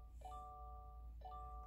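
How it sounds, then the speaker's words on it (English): Seatbelt warning chime in a 2020 Subaru Crosstrek with key ignition, two clear electronic tones spaced about a second apart, faint over a low hum inside the car, no speech. "We're going to let the chime stop."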